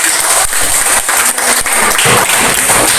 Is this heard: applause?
yes